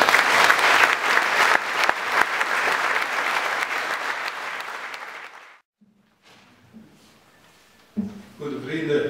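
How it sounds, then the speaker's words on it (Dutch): A crowd at a CD&V municipal election rally gives loud, dense applause for mayor Walter Laat. The clapping fades out after about five seconds, then quiet talking and shuffling follow. "Graag uw overdonderend applaus voor uw burgemeester Walter Laat"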